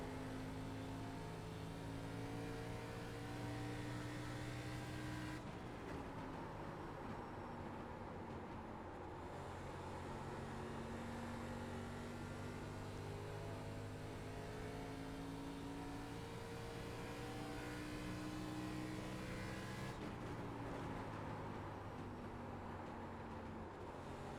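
An ARCA race car laps Phoenix in the iRacing simulator, its engine droning steadily and rising and falling in pitch through the corners, with two sharp shifts in the engine note; no one speaks.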